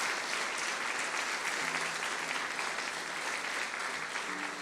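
A church congregation applauds during a prayer service, sustained and even clapping from a large crowd, loud and continuous with a faint tone or voice underneath at moments.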